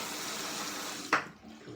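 Water from a bathroom tap runs steadily while a beard is wetted before shaving, a broad hissing flow with a brief splash near the end before it drops off.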